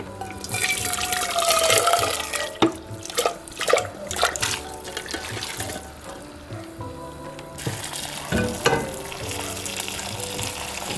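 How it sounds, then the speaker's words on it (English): Hot water poured into a pot of Jamaican red peas soup with pigtail, giving a steady liquid splashing and bubbling wash with a few clinks and stirring sounds, fairly close and continuous, with no talk. "Next, I'm going to pour in some more hot water."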